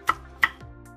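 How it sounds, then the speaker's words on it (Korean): A knife chops a single red chili pepper on a cutting board with two crisp, close knocks in quick succession, followed by a softer tap. "홍고추 1개를 썰어주세요."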